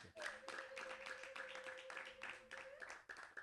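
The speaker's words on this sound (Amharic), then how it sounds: "አጨብጭቡ እስቲ ለጌታ።" A church congregation clapping for the Lord in rhythmic, steady hand claps, faint overall, with a sustained tone and voices running underneath.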